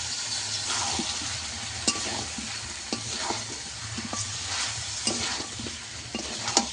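Chicken pieces and potatoes sautéing together with spices in a pan for a homestyle chicken and potato curry, a steady close sizzle broken by repeated clinks and scrapes of a spoon stirring.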